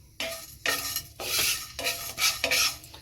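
Whole spices such as mace and cinnamon dry roasting in a pan for chicken sukka, with bursts of stirring and scraping against the metal and a soft sizzle, close and fairly loud.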